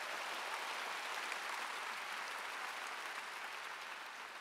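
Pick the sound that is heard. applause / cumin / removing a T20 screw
applause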